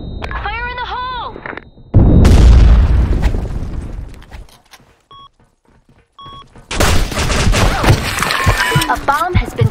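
In the online shooter Blackshot, a grenade explodes with a loud, sudden boom and rumbling debris, followed by quieter game beeps and then a burst of gunfire and clatter, with a voice line heard before the blast.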